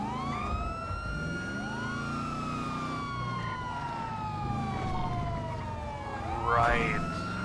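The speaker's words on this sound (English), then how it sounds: "I shouldn't be turning off my siren." A police car siren in a police driving video game wails in long rising and falling sweeps, loud and continuous, with a short burst of another siren tone near the end.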